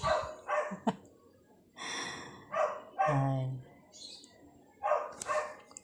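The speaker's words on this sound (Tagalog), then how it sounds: "Medyo po yung aso ng kapitbahay namin, eh, hindi tumitigil pagtahol." A neighbour's dog barks repeatedly in short bursts, at moderate distance, with brief gaps between barks.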